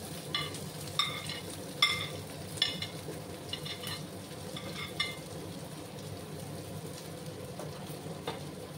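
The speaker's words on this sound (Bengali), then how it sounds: "এবার আমি পেঁয়াজগুলোকে একটু লাল লাল করে ভেজে নেব।" Sliced onions frying in a pan for dahi bhindi, a quiet, even sizzle throughout with a few faint clinks and scrapes of stirring early on, no voices.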